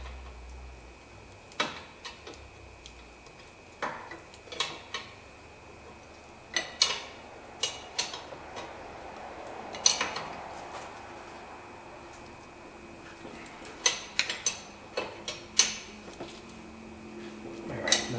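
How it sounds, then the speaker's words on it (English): Wrench ratcheting on a brake caliper bolt of a 2008 Nissan Altima, tightened by hand: sharp, irregular metallic ticks and clicks in short bursts over a quiet background, close by, with no talking. "we're just going to tighten that up with a wrench as tight as we can"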